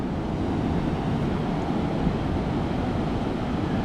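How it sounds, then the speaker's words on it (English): Ocean waves at Galveston Beach, a steady close wash of surf mixed with wind rush on the microphone, with no talk. "Yeah, the waves are staying out there, ain't they?"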